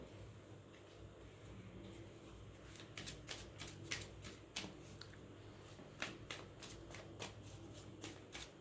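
Tarot cards being shuffled, with a faint riffling hiss and then a quick run of sharp, regular flicks and taps, close but quiet against a low background hum.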